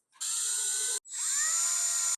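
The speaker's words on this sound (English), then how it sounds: "Remove the trim ring one more time and then drill the holes." A power drill whines at high pitch in two bursts while drilling holes in 1964 Ford headlight buckets and trim rings, the first about a second long, then a brief pause and a longer run as the bit bites in.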